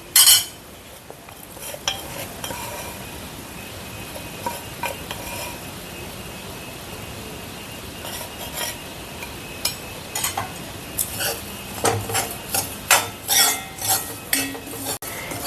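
A spoon scrapes and clinks in a pan as onion and chili powder are stirred and roasted for Onam ulli theeyal, with soft sizzling underneath and clattering strokes growing busier toward the end.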